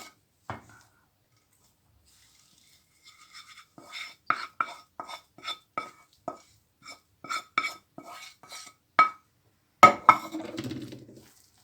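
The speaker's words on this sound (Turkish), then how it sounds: "Şimdi güzelce karıştırıyoruz." Potato bazlama dough being mixed with oil in a bowl, a series of irregular clinks and scrapes against the bowl, fairly close and clear with no talking over them.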